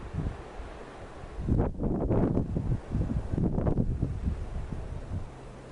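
Wind outdoors blowing across the microphone in rushing gusts that swell and fade, loud bursts around the middle over a low rumbling background, no voices.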